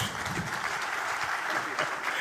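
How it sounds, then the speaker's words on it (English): Audience applause at a Kenyan government launch event for the Open Government Partnership action plan with the president present, a steady moderate round of clapping throughout. "Let's give them one more round of applause."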